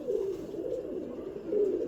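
Pigeons in a home loft coo in low rolling bursts, close and steady, with a stronger call at the start and another near the end, and no talk.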